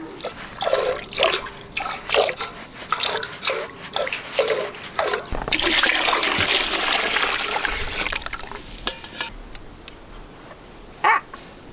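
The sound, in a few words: milk spraying while hand-milking a cow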